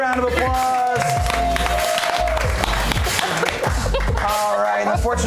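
An audience at a live game show claps and cheers for players, a dense burst of applause with crowd noise under a loud, close host voice speaking throughout.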